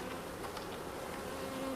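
Honeybees drone steadily around an opened beehive. The buzzing is dense, continuous and close, with no voices over it.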